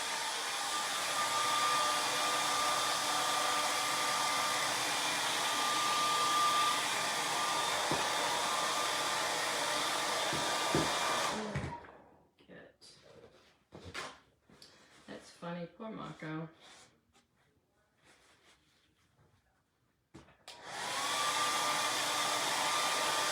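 A hair dryer blows steadily up close while drying a painted surface, then cuts off for several seconds of handling noises and brief talk before it roars back on.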